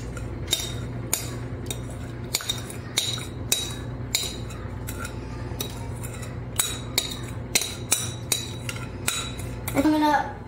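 Metal spoon clinking and scraping against a bowl while ice cream mixture is scooped in, a string of sharp close taps spread evenly across the stretch, with a low steady hum underneath.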